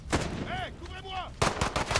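Bursts of machine gun fire from the video game Modern Warfare 2019 crack loudly at the start and end, and a short electronic whine sits between them.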